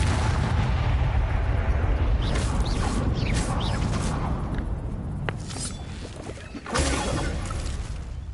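Confringo blast spell cast in the Hogwarts Legacy video game, a dense booming explosive roar with crackling debris filling the whole stretch, swelling again with a sharp burst near the end.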